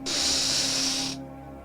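A deep breath drawn in during a relaxation exercise, heard as a close, steady airy hiss lasting about a second before cutting off into quiet room tone.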